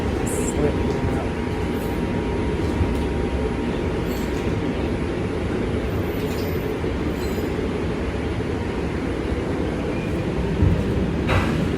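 A New York subway 4 train riding along, with a loud, steady rumble of wheels and car noise throughout and a brief squeal of metal near the end.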